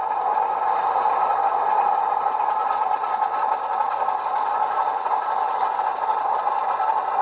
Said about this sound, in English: There's flange squeal on F3.